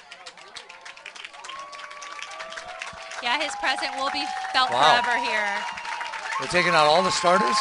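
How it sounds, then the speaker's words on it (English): Fans applaud at a girls' high school soccer championship game, steady crowd clapping and cheering rising in the background under continuous close commentary talk. "You can hear the applause in the background."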